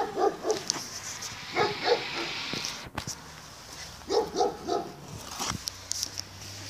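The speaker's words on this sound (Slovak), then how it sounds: "Máme tu psíka." A dog barks and whimpers in several close, short bursts, with quieter gaps between them.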